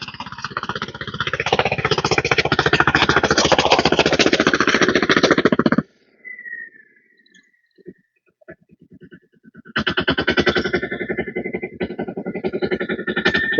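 A loud, rough Apollo Sugar King tractor engine drones steadily, cuts out abruptly for several seconds with a few faint knocks, then roars back up just as heavy.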